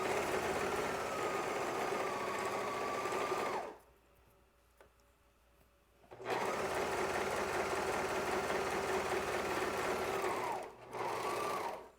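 A serger sewing machine runs in two loud, steady whirring bursts, stopping for about two seconds between them, then pausing briefly again near the end before resuming.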